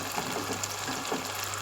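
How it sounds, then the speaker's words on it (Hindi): Water pours steadily into a simmering masala gravy for handi seekh kababs, a continuous close gushing splash with a low hum beneath. "अब हम इसमें क्या करेंगे, पानी डाल रहे हैं हम।"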